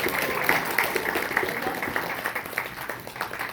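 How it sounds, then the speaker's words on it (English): An audience at a convention panel applauds for several seconds, producing a steady, moderately loud wash of clapping with scattered voices mixed in. "Can we give Sarah a great big round of applause again?"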